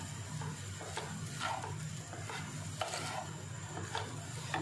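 Grated coconut and sugar are stirred and roasted in a pan over a medium-low flame, the sugar starting to melt. A spoon scrapes the pan in soft, uneven strokes with light clinks, under a steady low hum and no talk.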